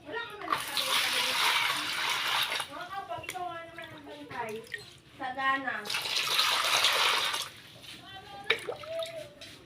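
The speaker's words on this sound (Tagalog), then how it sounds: "lagyan na natin ng tubig" Water pours and splashes into a betta fish container in two long bursts, with a person talking between the pours.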